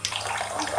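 Water pours steadily onto a Samsung Galaxy S4 phone during a water resistance test, a brief, soft, continuous splashing trickle with no talk.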